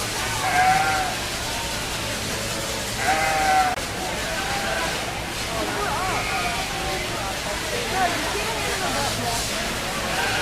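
Sheep bleating at a 4-H/FFA sheep show, with several distinct bleats spaced a few seconds apart rising over a steady crowd murmur and background hum of the show barn.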